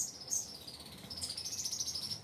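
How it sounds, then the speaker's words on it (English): Birds chirping and tweeting in high, thin calls, several overlapping at a moderate distance, steady over a low outdoor hum. "You hear the birds?"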